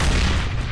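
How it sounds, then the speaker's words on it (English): A grenade explodes in a first-person shooter game, a loud, dense boom with heavy low rumble that fills the whole moment and fades only slightly. "And goddamn it, grenades."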